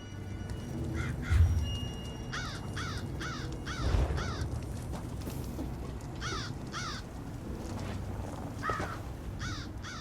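Crow caws from Elder Scrolls Online's Clockwork City, a series of paired harsh calls repeating through the clip over a low ambient game rumble, with a couple of soft thumps.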